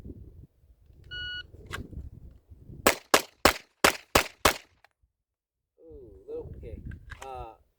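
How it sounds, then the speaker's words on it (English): Six rapid gunshots crack in a tight, evenly spaced burst from a ZR Tactical long stroke shotgun during a bill drill, with a beep before and talk around the string of shots. "it's just 6 shots as quick as you can, just straight to it"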